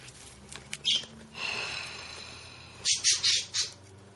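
A pet bird lets out a series of harsh, close squawks: a couple of sharp cries, a longer raspy screech, then a quick run of four loud squawks.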